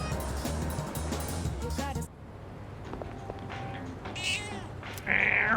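A cat in the video game Persona 3 Reload meows in a few short, close calls, heard over game music and other ambient game sound that shift partway through.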